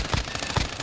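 Rapid gunfire in a Warzone Caldera match, bursts of automatic shots with a couple of heavier thumps, loud and dense over a busy game soundscape, with no talking.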